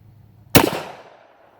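A single loud, close gunshot from an old used STAR Super Largo pistol fired at paper plate targets, a sharp crack followed by a short fading echo.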